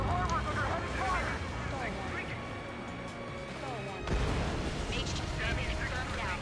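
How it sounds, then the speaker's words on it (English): Ace Combat 7 battle at a harbor under attack: heavy booming fire and missile explosions rumble continuously, with a sharp blast midway, while radio voices chatter over the din. "The harbor's under heavy fire."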